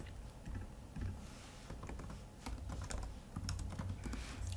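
Rapid, light clicking from typing on a computer keyboard during a coding session, quiet and close, with uneven bursts of keystrokes and no talking.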